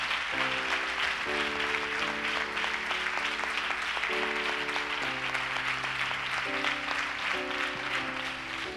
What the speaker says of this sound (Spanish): Dale un aplauso a Cristo. Más fuerte, por favor.